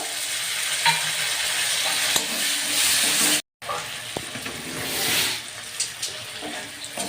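Spices and tomato fry in a pan for a Bengali-style katla fish yoghurt curry, crackling continuously with stirring scrapes and clinks, a brief cut midway, then uneven sizzling bursts.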